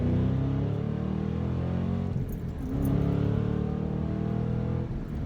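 A 2014 Shelby GT500 pulls hard past a truck on the highway, its engine a loud, steady rising drone with layered harmonic tones that swell again midway, heard from inside the car with no talking.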